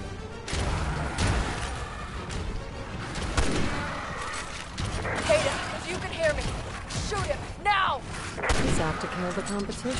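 Gunfire in Resident Evil 6's Ada campaign, repeated loud booming shots with crashes and impacts amid game noise, with someone talking over it.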